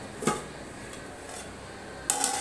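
A metal lid set onto a pot of cooking chicken biryani, giving a couple of light clinks and a sharper clatter near the end, close by against a quiet kitchen background.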